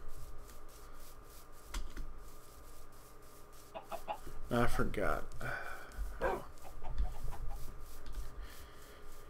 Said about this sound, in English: Let's kill these chickens.